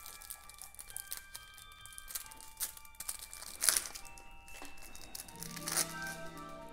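Packs of Barker's Row board game cards being torn open by hand, with quiet plastic crinkling and tearing in short bursts and a louder rip partway through.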